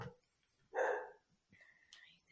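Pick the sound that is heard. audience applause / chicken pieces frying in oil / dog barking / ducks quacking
dog barking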